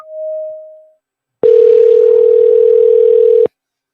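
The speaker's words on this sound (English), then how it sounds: "I'm trying to call Lincoln" A phone call tone sounds near and loud: one brief faint tone, a pause, then a steady continuous tone holding for about two seconds before stopping abruptly.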